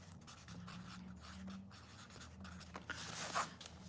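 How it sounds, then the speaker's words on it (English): A pen writing the colour name Vivacious Violet on paper gives soft, close scratching strokes that rise briefly near the end, over a low background hum. "Let me write that one down."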